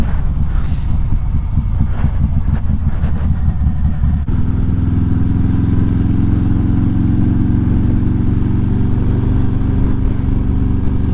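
A 2019 Harley-Davidson Fat Bob custom motorcycle ridden in cold winter weather, a loud steady engine drone under heavy wind rush, with brief gear-change shifts early on.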